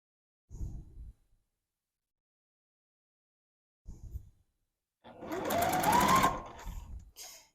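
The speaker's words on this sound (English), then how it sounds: "put that seam back under your foot and continue sewing." A sewing machine stitches the seams of a quilt block in three bursts, two short whirs and then a longer, louder run of rapid needle strokes, with quiet pauses between them.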